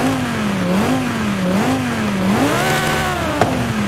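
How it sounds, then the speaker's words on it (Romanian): A Lamborghini engine in a racing video game played with a steering wheel drones loudly and steadily, its pitch rising and dipping in repeated revs, with a brief click near the end and no talk. "Dintr-un Lamborghini probăm astăzi mașina. Ia vedeți ce fain e Lamborghini-ul. Ascultați doar ce bine sună"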